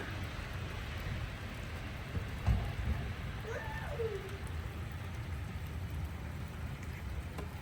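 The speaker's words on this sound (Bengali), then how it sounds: "এখন আবার বৃষ্টি পড়তেছে" Rain falls steadily outside an open window on a cold day in Germany, with snow mixed in, making an even, soft hiss throughout, with a brief faint chirp partway through.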